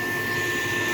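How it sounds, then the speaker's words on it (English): A vacuum cleaner runs under the seat of a 1985 wagon, a steady, close, loud whooshing roar with a faint high whine, no pauses across the short stretch. "I like to go ahead and vacuum under the seat, under the floor mat."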